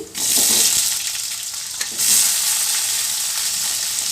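Onions hit hot oil in a pan for a mutton curry, setting off a loud, steady hiss that surges twice and holds as a close, continuous sizzle.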